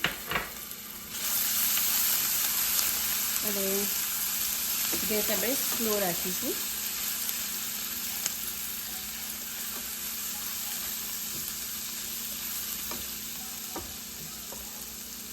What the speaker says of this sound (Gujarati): એમાં આપણે આદુ મરચાં લસણની જે પેસ્ટ બનાવી છે એ અંદર એડ કરીશું 2 ચમચી.